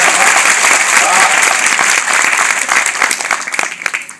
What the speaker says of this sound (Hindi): ये सोरों की तालियां हैं